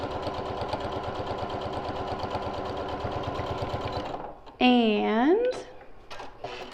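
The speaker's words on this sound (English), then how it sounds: "I have a 1/4 inch foot on my sewing machine" Sewing machine with a 1/4 inch foot stitching a seam, a steady rapid mechanical whir running for about four seconds, then stopping as a voice speaks.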